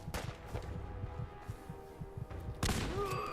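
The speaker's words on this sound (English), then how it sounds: "Grenade." Gunfire and combat sounds from the Fallout 4 video game, with rapid bursts of shots followed by a sudden, louder broadband blast near the end as a grenade goes off.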